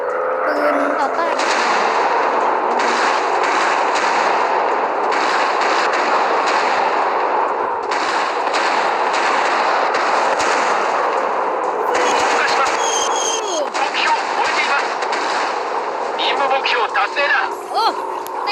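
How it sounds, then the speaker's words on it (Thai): In a World War II fighter plane video game, anti-aircraft guns keep up dense, rattling bursts of gunfire and booms for the whole stretch, loud and continuous, with game voices heard over the barrage. "ปืนต่อต้าน"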